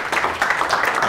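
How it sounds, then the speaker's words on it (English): Summit audience applauds James Moody in New York, a short wash of many hands clapping together at moderate volume. "So let's give a round of applause for James Moody"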